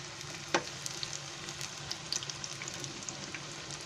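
Big green chilies frying in a pan over low gas make a soft, steady sizzle with faint crackles and a sharper pop early on, close but quiet.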